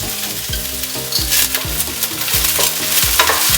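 Onions sautéing in a pan on very low heat, a close steady sizzle and crackle under a rhythmic pattern of repeated tones, with occasional scrapes of stirring.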